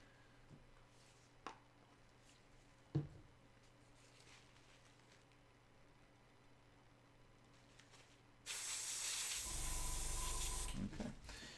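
An airbrush sprays paint onto a Space Marine miniature in a steady loud hiss of about two seconds, after a stretch of quiet handling sounds.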